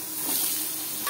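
Cumin seeds and dry red chillies fry in hot oil with a steady, close crackling sizzle throughout, no voices.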